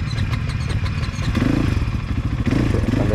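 A cold motorcycle engine restarts after stalling, its steady, loud, rough idle rumbling close by with some clattering throughout.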